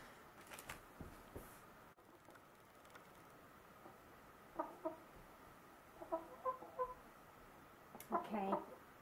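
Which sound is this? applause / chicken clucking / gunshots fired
chicken clucking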